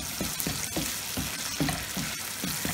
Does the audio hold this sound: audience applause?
no